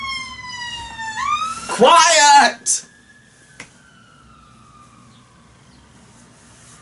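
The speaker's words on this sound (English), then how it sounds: "Yes, I just yelled at an ambulance." An ambulance siren passing outside wails in rising sweeps, then cuts off abruptly as a person shouts loudly nearby, leaving faint background hum.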